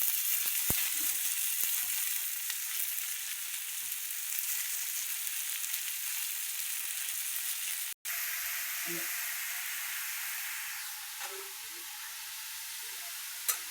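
Green chillies frying in a pan of hot oil for a dill (shepu) vegetable dish, a steady close sizzle that runs the whole way with a brief break near the middle and a few stirring clinks, quiet voices now and then.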